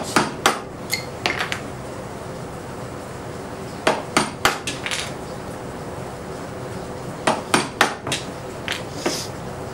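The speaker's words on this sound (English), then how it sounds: "come in here with your chisel right across the grain there, and pop all these guys out" A wood chisel chopping waste out across the grain during a workbench build, sharp knocking strikes in quick clusters of several hits with pauses between, close and fairly loud in a quiet room.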